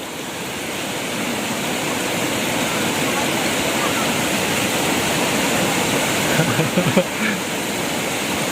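A strong-current river rushes steadily on a mountain crossing, a loud, continuous broadband roar of water with brief splashing near the end and faint voices mixed in.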